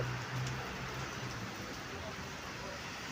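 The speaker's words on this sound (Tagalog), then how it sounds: "Yan yung lakas ng ulan po." Heavy typhoon rain pours down in a dense, steady hiss, loud and continuous, with faint low rumbling beneath.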